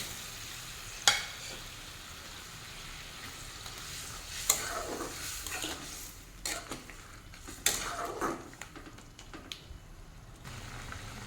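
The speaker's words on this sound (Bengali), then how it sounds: "এই যে ফুটতে শুরু করে দিয়েছে গ্রেভি, এখন দিয়ে দেবো চিংড়ি মাছ" Prawns cooking in a bubbling spicy red gravy over high flame, a steady low simmer broken by several sharp metallic clinks and stirring scrapes of a utensil against the pan.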